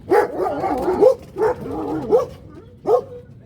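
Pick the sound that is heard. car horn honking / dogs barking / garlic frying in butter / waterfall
dogs barking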